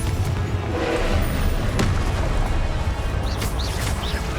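A Confringo fire-spell explosion in the video game Hogwarts Legacy makes a loud, dense booming rumble that lasts throughout, with a sharp crack partway and faint chirps near the end.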